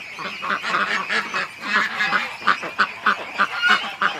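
Ducks quack and honk continuously and close by, a busy overlapping chorus of nasal calls in a steady rhythm, with no talking over them.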